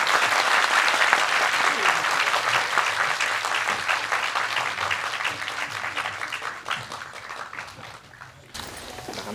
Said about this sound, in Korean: 배우분들에게 큰 박수 부탁드리겠습니다.